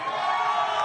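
Texas crowd at a press conference for a Jake Paul versus Nate Diaz boxing event, a steady wash of cheering and voices at moderate distance, unbroken for under a second.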